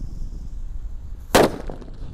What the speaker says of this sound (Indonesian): Lanjut di sini ada mercon petir. Ini yang suaranya menggelegar, guys.